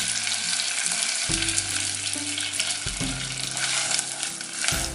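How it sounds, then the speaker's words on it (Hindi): Vermicelli fries gently over low heat with cardamom in the pan, giving a continuous bright sizzle close by, broken by a few low thumps as the strands are stirred; no voices. "हम ऐड करेंगे सवैयाँ और इनको हल्का सा फ्राई करेंगे, बहुत धीमी आंच पर"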